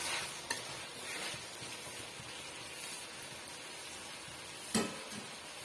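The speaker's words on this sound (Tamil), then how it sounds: "இந்த எண்ணெயிலேயே வந்து நல்லா இந்த உருளைக்கிழங்கு வெந்து வரட்டும்" Potato pieces cooking in hot oil for a simple lunch-box variety rice, a continuous soft sizzle under occasional scraping stirs and one sharp utensil knock near the end, close by, with no talking.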